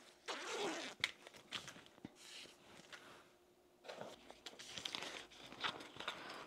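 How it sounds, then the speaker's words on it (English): Zipper for a sewn fish-shaped zip pouch being handled, with short bursts of zipping, crinkling and rustling separated by brief pauses, close and faint. "Then we want to get our zip."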